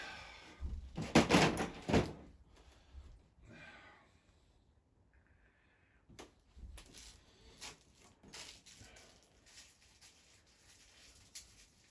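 A door being shut while it is installed, with a few loud knocks and thuds up close near the start, then quieter scattered knocks and rattles of handling.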